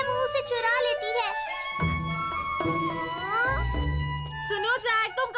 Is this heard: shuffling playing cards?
no